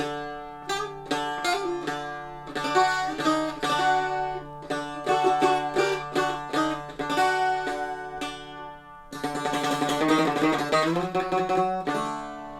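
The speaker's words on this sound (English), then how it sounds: "It's a Buzuki. It's a traditional Greek instrument from." A bright plucked bouzouki, a traditional Greek instrument, plays a lively melody with quick picked notes and fast tremolo passages, close and clear, no voices.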